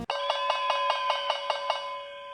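A stock exchange trading bell rings out in a rapid, steady series of bright metallic strikes, about ten evenly spaced hits sustained over a ringing tone, loud and close with no voices.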